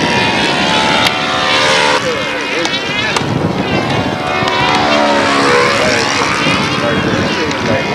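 A model airplane flying at a windy world championship event buzzes loudly overhead, its propeller whine rising and falling steadily as it passes, while people talk beneath it.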